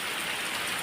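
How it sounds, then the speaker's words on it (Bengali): Heavy rain pours down outside under thick clouds, a dense, even hiss of drops beating on surfaces with no pauses over a brief moment. "আর দেখো প্রচণ্ড মেঘ করে এখন বৃষ্টি হচ্ছে"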